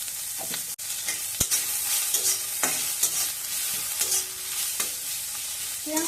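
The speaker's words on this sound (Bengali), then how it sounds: "এবার কুচনো পেঁয়াজ দিয়ে দেব" Chopped onions fry in a little oil in a pan, a bright steady sizzle with repeated scraping and stirring strokes of a spatula close by.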